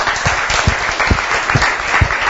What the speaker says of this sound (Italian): Intanto un applauso va sicuramente a Bevilacqua Simone,